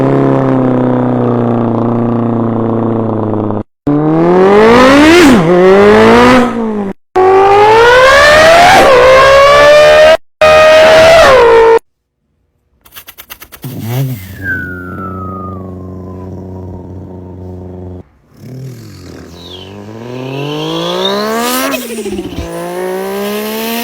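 A voice imitates a Mazda RX-7 rotary engine in a garage, sounding loud revving bursts that rise and fall in pitch, separated by short pauses, then falling shifts and a final climbing rev.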